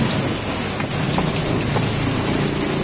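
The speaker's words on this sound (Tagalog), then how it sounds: "So inabot po ako ng ulan mga ka-vlog." Steady rain falling outdoors near a motorcycle seat assembly job in the open, a dense continuous hiss that holds evenly with no break and no voices.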